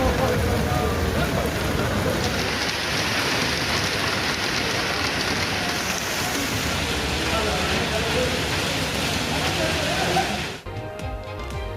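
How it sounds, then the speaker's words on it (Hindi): Heavy rain driven by strong winds pours down steadily in a dense, roaring hiss that holds for about ten seconds, then cuts off abruptly into quieter background. "तेज हवाओं के साथ बारिश"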